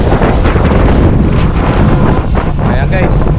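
Strong wind buffeting the microphone on a ferry deck at sea off Istanbul, a loud, constant rushing roar with water and engine rumble beneath and a voice faintly mixed in.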